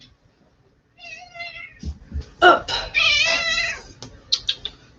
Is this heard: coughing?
no